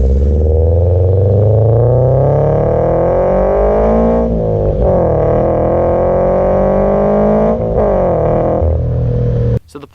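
A loud, raspy Toyota FR-S or Subaru BRZ sports car engine with catless headers revs hard, climbing in pitch through several gear shifts with brief dips, aggressive and close throughout.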